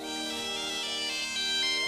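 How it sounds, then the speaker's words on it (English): A satellite phone rings out with a store-style jingle in a Lego Jurassic World cartoon, a steady electronic tone held alone and fairly loud for a couple of seconds. "It's my dad's satellite phone."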